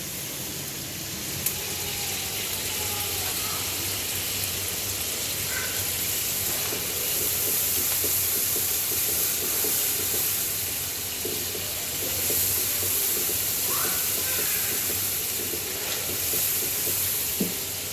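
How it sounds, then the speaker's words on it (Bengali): Potatoes fry in a pan alongside chicken, a continuous broad hiss of sizzling oil, close and fairly loud, with faint scraping now and then and no voices. "তারপরে আলুটাও একটু ভেজে নিব আমি।"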